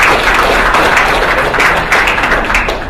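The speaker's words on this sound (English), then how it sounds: "Let's give them another round of applause." A crowd gives a round of applause at an event promoting college play sign-ups. Dense, continuous clapping fills the whole stretch at a fairly loud, even level.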